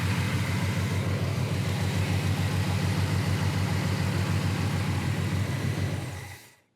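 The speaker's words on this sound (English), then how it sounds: "Great sounding big block." A 1970 El Camino big block with headers, Edelbrock intake and 4-barrel carburetor idling steadily with a deep, even low rumble, close and constant until it fades out at the end.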